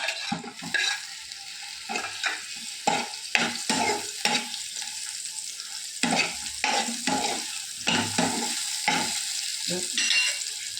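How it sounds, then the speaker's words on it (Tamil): Masala-stuffed eggplant frying in a little oil in a hot pan, steady sizzling under repeated scraping stirs of a spoon, close and fairly loud throughout. "அதில் மசாலா ஸ்டஃப் பண்ண கத்திரிக்காய் ஊற்றிக்கலாம்."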